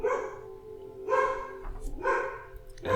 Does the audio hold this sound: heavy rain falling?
no